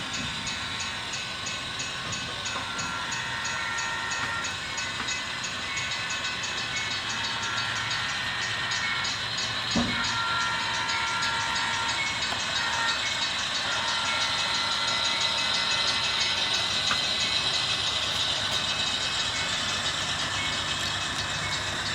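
A model train runs steadily, giving off a continuous whirring rumble and high motor whine, with one sharp click partway through.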